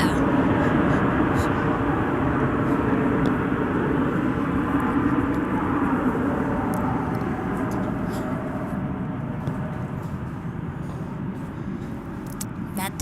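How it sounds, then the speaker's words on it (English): An airliner takes off at DFW Airport, its jet engines a loud, continuous broadband roar that slowly eases as it recedes, with brief clicks and handling noise near the microphone. "There are planes taking off."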